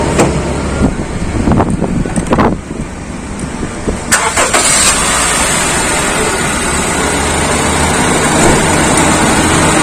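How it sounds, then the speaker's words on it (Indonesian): A 2017 Honda CR-V engine being started: a few short cranking bursts give way to the engine catching and settling into a steady, loud idle heard up close. "kita langsung hidupin aja mesinnya"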